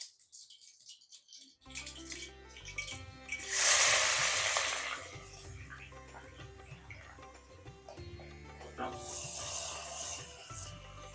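Mustard seeds, cumin and onion frying in hot oil in a pan, a steady close sizzle with a loud burst of crackling spitting a few seconds in and another surge near the end, with faint scraping between.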